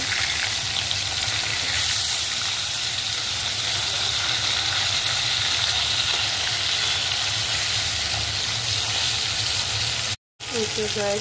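Koi fish sizzling and crackling steadily in hot oil, a loud continuous frying hiss close up that runs throughout with one brief dropout near the end.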